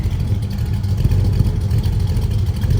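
A 1966 Ford Mustang Fastback's 331 V8 with EFI idles steadily nearby, a low rumbling drone that holds an even level throughout with no talking.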